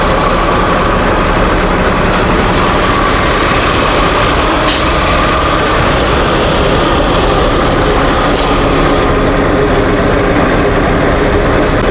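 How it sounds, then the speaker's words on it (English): A 1995 Mercedes-Benz C280 engine idles steadily, a loud, even, low mechanical hum heard close up with no pauses or revving and no voices over it. "So listen to that engine."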